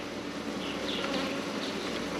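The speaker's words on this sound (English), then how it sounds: "Got some bees." Honeybees swarm over an opened hive frame during a July mite wash and inspection, a dense, steady buzzing heard close up and alone, with no voices.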